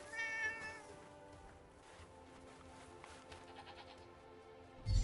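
Cat in the video game Forspoken gives one short, clear meow at the start, followed by quiet ambient background with a soft thump at the end and no speech.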